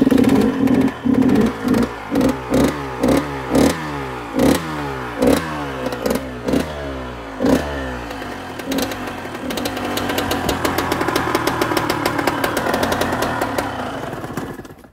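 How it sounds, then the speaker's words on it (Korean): An old motorcycle left unused for five years is kick-started and fires, first chugging in a loud, uneven series of separate putts, then catching and settling into a steady, continuous idle close by, with no talking. "시동 걸리죠"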